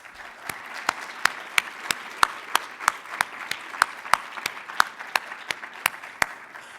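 Scattered, evenly spaced claps ring out as a conference audience at a community college event welcomes a speaker, light and steady with no talking over them.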